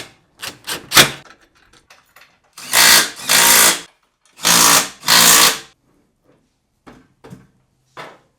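A power driver with a 14 mm socket runs down nuts on caster bolts for a WORKPRO folding miter saw stand, giving four loud whirring bursts of one to two seconds each between short mechanical clicks and rattles.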